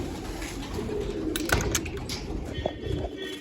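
Pet pigeons coo softly while pecking at scattered grain, low burbling calls rising over a busy background with a few brief flutters and clicks, fairly close.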